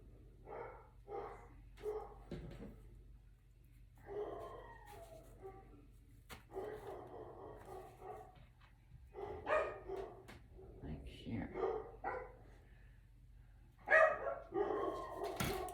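A dog barks in repeated bursts, fairly close and moderately loud, with short pauses and some whimpering between, over a low steady hum indoors.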